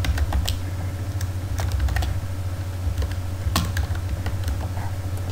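Keys clack on a computer keyboard as a description is typed, a steady patter of close clicks over a low hum, with no talk.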